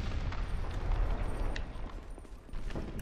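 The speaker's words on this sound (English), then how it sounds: "It's one of these exploding bastards." An exploding enemy in Dark Souls 2 bursts with a deep rumbling blast, loud and close, its boom trailing off into a low roar and scattered thuds.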